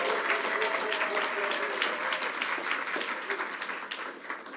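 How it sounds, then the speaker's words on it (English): Sustained audience applause from a crowd at a live public event with the governor, loud and dense clapping that stays steady and eases off slightly toward the end. "Let's give a huge round of applause to my friend, Grace Meng."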